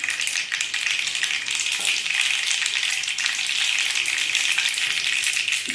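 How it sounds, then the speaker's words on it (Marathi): Cumin and mustard seeds sizzle in hot oil in a kadhai while tempering for stuffed brinjal, giving a loud, steady, crackling hiss that runs unbroken from start to end with no voices. "कढईमध्ये तेल घेऊन जिरं मोहरी टाकून घेतलेली आहे."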